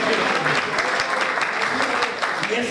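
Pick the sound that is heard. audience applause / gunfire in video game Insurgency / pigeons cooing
audience applause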